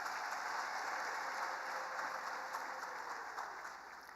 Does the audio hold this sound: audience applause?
yes